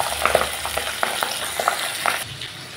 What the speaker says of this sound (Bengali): হালকা করে মাছগুলো এখন আমি ভাজবো।